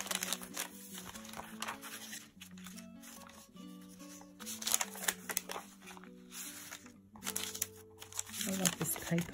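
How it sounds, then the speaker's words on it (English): Crunchy journal paper is handled and crinkled close up in steady rustling bursts, with a person talking over it. "I love this paper, it's so crunchy."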